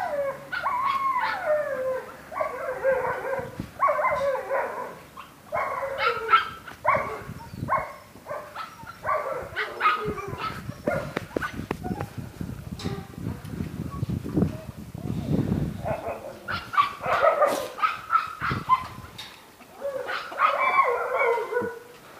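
Several German shepherds bark and howl in repeated bursts across a large outdoor playground, loud and close, with whimpering between rounds and a person talking at times.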